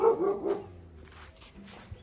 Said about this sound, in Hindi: मुझे देख के भौंक रहा है।